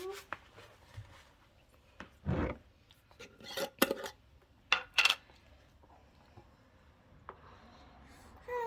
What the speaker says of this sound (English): Now we're gonna measure out my coconut oil.